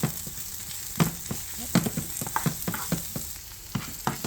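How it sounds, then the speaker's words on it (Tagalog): Garlic and onion sizzle in a hot pan for a stir-fried yaki udon, a continuous frying hiss broken by frequent close scrapes and clinks of stirring. "Pag nag-brown lang natin konti yung ating bawang. Ayan, sunod na natin yung ating sibuyas."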